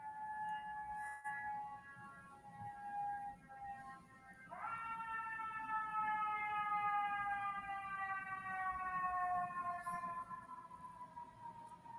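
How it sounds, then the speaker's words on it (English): A wailing emergency siren drifts in from a distance in New York City, its tone sweeping up sharply and then sliding slowly down over a steady hum of city traffic. "We're going to get a siren."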